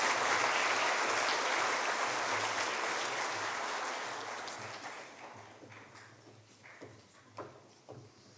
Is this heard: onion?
no